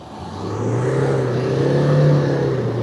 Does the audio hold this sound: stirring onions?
no